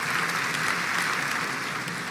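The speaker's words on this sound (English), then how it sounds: "You weren't supposed to clap that." An audience claps in a steady, dense burst of applause, moderately loud and even throughout with no speech over it.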